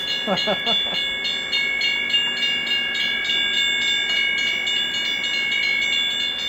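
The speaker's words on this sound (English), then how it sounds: "And yes, both crossings feature their own sound." O gauge model railroad crossing with a train: steady high electronic crossing bell tones ring continuously over a low rolling rumble, close and fairly loud.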